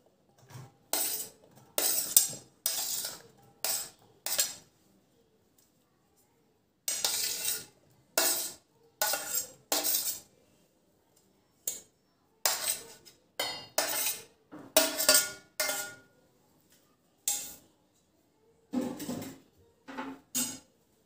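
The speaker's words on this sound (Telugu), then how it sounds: "ఇప్పుడు ముందుగా కట్ చేసుకున్న ఈ వెజిటేబుల్స్ని ఇలా ఒక గిన్నెలోకి తీసుకుందాం" Chopped vegetables being moved into a bowl for a stovetop vegetable cheese pizza, with repeated clinks and clatters of utensils and dishware in separate short bursts and quiet gaps between them.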